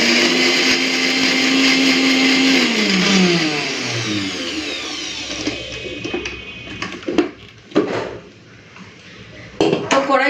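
Kitchen blender grinding whole cumin seeds and a dried red chilli for a fish curry spice paste, a loud whirring grind that winds down, followed by clattering of the jar and lid.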